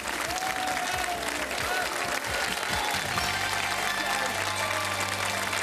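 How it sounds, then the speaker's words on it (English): Studio audience at a game show claps steadily for contestants who have just won a car prize, a continuous loud wash of applause with a low hum entering toward the end. "Give them a round of applause."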